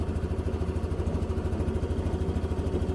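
A Yamaha Aerox scooter engine runs steadily at idle during maintenance after a coolant change, a close, loud, even low throb with a fast regular pulse and a clattery mechanical edge, no voices.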